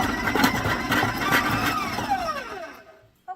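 Electric mixer whirring on its highest speed while beating chocolate butter frosting, a steady close motor drone that winds down with falling pitch and stops, followed by a brief knock.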